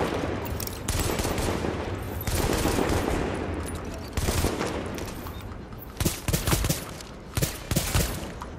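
Sustained automatic gunfire from the video game The Division, with dense rapid bursts running throughout and sharper individual shots standing out near the end, loud and continuous.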